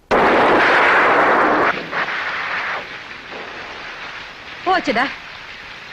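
A loud, sudden roar of thunder with heavy rain bursts in, dominating the opening, then eases to a softer steady patter as a voice cuts in briefly.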